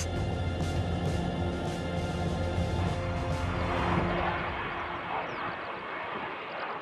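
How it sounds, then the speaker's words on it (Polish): World War I airplanes take off, their piston engines roaring in a rough, throbbing drone that is fairly loud at first and then fades a little as they move away. "Trwa balet startujących samolotów."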